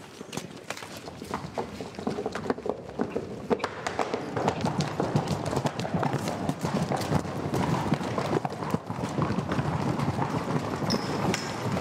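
Several horses gallop toward scale doubles on a film set, a dense, continuous drumming of hooves on the ground that stays steady and fairly distant throughout, with no voices over it.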